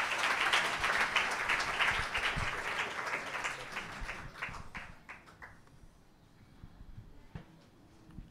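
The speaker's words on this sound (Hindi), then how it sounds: "ताली तो बजाइए परमेश्वर के लिए।" A congregation at a Sunday prayer service claps together in a loud burst of applause that tapers off over several seconds into a few scattered claps and quiet room noise.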